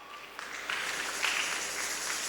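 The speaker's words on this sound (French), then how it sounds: "Une acclamation encore." A church Sunday school audience applauding, a soft continuous patter of many hands heard a little distant, with slight swells and no clear cheering.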